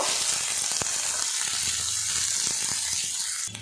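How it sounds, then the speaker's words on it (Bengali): A large, coarsely chopped onion fries in oil with cumin, producing a close, continuous sizzling hiss broken by a few sharp clicks and taps of the pan or utensil. "পেঁয়াজটা আমি ভেজে নেব"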